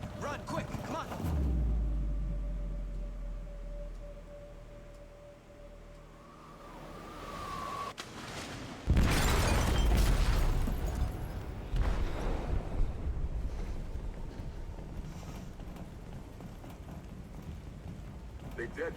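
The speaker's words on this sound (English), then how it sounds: "They detonated an explosive in the hold." An explosion in a ship's hold in the game Detroit: Become Human: a deep rumbling boom bursts in after a low droning lull, followed by sustained roaring, crackling debris noise and rumble.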